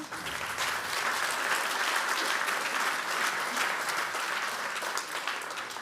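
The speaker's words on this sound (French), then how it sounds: "On peut les applaudir." An audience at an insurance industry awards ceremony applauds award winners, a steady dense wash of clapping from many hands that holds at an even level for several seconds.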